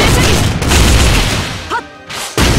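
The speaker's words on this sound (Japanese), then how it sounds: "一斉射撃" A volley of gunfire and booming explosions in Fate/Grand Order, a loud dense barrage that briefly cuts out and then crashes back in.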